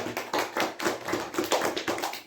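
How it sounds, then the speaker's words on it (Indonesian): Classroom applause at the close of a microteaching session: a steady run of quick hand claps from a small group, fairly close and moderately loud, with no talking. "Tepuk tangan dulu untuk kita semua"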